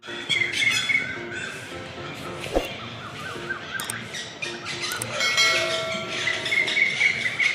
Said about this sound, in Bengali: অপূর্ব সুন্দর এখানকার পাখিদের আওয়াজ